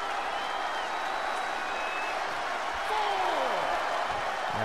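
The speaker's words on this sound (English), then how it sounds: "The crowd on their feet, trying to will Sasha Banks back into the ring" Wrestling arena crowd in the WWE 2K20 video game, a steady wash of cheering and applause under a commentator's voice, swelling slightly louder near the end.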